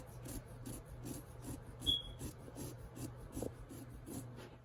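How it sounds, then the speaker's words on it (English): A lime being zested for a lime crema, soft rhythmic rasping strokes repeating steadily, close and quiet. "we are going to zest our lime"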